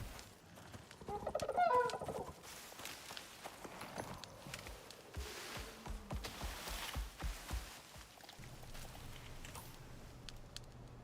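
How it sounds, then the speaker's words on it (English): A bird calls repeatedly in the open-world survival game Icarus, a gobbling, turkey-like cry loudest near the start and then trailing off among ambient game sounds, clip-clop footsteps and faint background noise. "That's not a bear. It's a bird."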